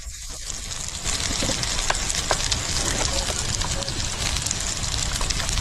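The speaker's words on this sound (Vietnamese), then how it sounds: "Cho thịt cắt hạt lựu vào nồi, sau đó cho sốt cà chua vào." Diced meat and tomato sauce simmer and sizzle in a pot, a steady broadband bubbling and frying hiss running throughout at close range with occasional clinks, no talk over it.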